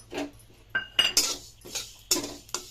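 Sesame seeds are added to a pan and stirred with a metal spoon, producing several sharp utensil scrapes and clinks spaced irregularly over a couple of seconds, close and clear.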